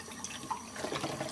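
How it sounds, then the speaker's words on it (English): Tap water runs and splashes while dishes and a pan are rinsed at a sink, a close, steady stream with small splashy variations, no talk. "And as I rinse, the water accumulates in the bottom of the pan"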